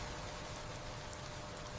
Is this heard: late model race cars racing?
no